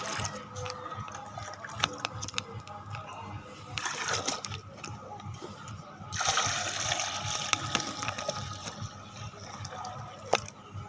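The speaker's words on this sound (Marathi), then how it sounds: "हे पाणी आपल्याला मग ह्या स्टिकरमध्ये टाकायचं" Water splashing and pouring into a sprayer, with sloshing bursts and a louder gush partway through, plus some background noise.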